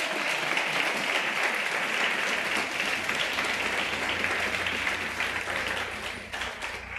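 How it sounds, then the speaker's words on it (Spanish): A church congregation applauds during a worship service, sustained even clapping from many people that carries on for several seconds before dipping briefly near the end. "Dele un aplauso al Señor."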